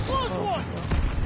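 Gunfire in the World War II video game Call of Duty WWII, a loud burst of battle noise with booming shots and a rumbling low end filling the short moment.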